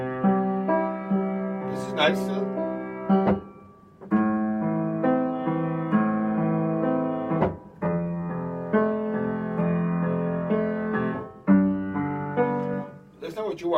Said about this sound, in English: if you let go too soon of your, you know, of the sustain pedal, it will sound like this